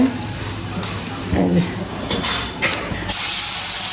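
Small fish frying crisply in a pan for a home lunch, a soft steady sizzle with occasional stirring and utensil scrapes, the hiss swelling louder near the end.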